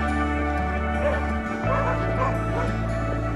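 Several dogs bark and yip on a snowy walk, a quick run of repeated barks with whimpering yips mixed in, close and loud throughout.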